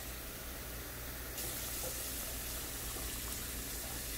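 Two cups of water pour into a pot of chickpeas as a continuous, faint stream that grows a little fuller partway through.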